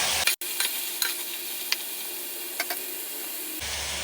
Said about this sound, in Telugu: టమాటోస్ కూడా యాడ్ చేసి మంచిగా మిక్స్ చేయాలి